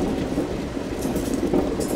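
A passenger train in India rolls along the tracks, a steady loud rumble of wheels and carriages with faint rhythmic clatter and light metallic squeaks, heard from close by with no talk.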